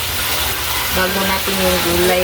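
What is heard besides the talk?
sautéing in a pan before adding bottle gourd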